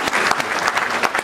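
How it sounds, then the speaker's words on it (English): Audience applause at a Berkeley lecture, a dense wash of many hands clapping steadily throughout, loud and close with no pauses. "he deserves your applause"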